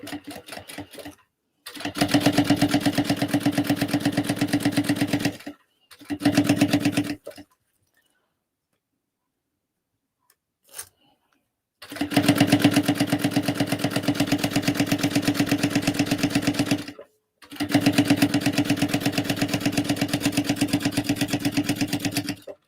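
A sewing machine stitches a quarter-inch seam on a tote bag in several loud, steady runs of rapid humming clatter, separated by short stops and one long silent gap.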